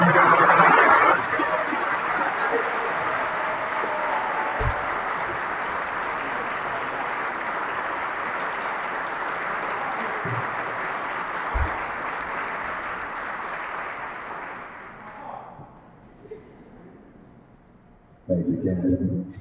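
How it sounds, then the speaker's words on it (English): Sustained applause from a crowd at the Howard University College of Dentistry white coat ceremony, loud and steady for about fifteen seconds before fading, with a few voices after it. "give yourself a round of applause"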